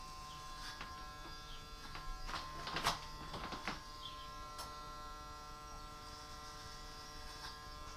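Electric hair clippers with a grade 3 guard cutting a man's hair around the ears during a home haircut: a faint, steady electric buzz with tonal hum, close by, broken by a few brief scratchy passes through hair.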